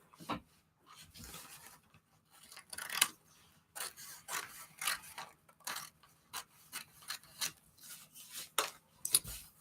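Scissors snip through paper for a junk journal craft project, a series of short crisp cuts and rustles in an uneven rhythm, close and fairly quiet, with no voices.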